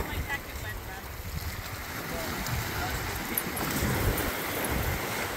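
Sea waves wash onto Tonquin Beach in Tofino, a steady rolling surf with wind buffeting the microphone, heard fairly close and continuous while people talk nearby.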